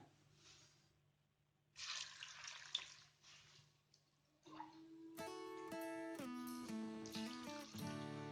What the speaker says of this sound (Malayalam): ഇനി നമുക്ക് ഇതിനകത്തേക്ക് വെള്ളം ഒഴിച്ചു കൊടുക്കാം.